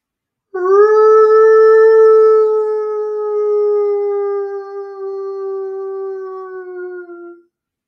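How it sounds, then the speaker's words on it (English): A single long-drawn, wolf-like howl rises loud and clear, then holds a steady, slowly sinking tone for about seven seconds before cutting off, with nothing else around it. "a long-drawn howl, like, yet unlike, any noise made by a husky dog."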